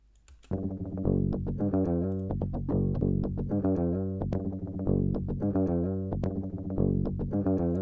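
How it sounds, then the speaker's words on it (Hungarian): Dry, unamplified electric guitar playing a rhythmic riff of plucked chords, thin and clean with no amp tone, steady throughout. "de nézzük meg, hogy hogyan szólnak a sávok erősítő szimulátor nélkül."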